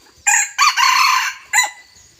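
A bantam rooster crows outdoors, one loud close call broken into a short opening note, a long drawn middle and a brief final burst, with no talk over it.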